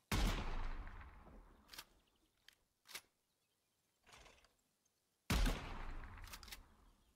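Guns fire in the video game Gunsmith Simulator: a loud opening burst, then a few sharp single shots, and another heavy burst later, each shot followed by a fading tail, with quiet gaps between.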